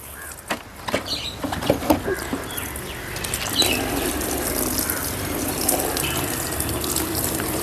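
Water pours into pots holding coco peat, beginning with a few knocks and splashes, then settling into a continuous gushing flow that fills the rest of the clip.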